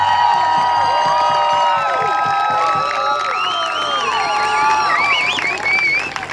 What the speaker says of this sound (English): let's give the UAB football team a round of applause